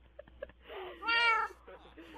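A tamed cat in Minecraft meows once, clear and close, with a couple of small game clicks before it.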